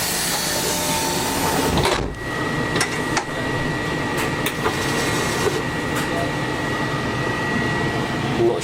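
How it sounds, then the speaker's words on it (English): An SJ 2000 X2 high-speed tilting train departing, heard from inside as a steady, loud broadband rumble and hiss with a few faint clicks and knocks, and no voices. "let's just wait for the train to depart"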